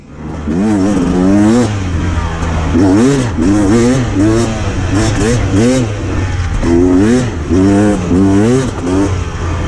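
A 2023 Beta 300 Race Edition motorcycle revs hard during a ride, its engine rising and falling in quick repeated bursts, loud and close throughout the clip.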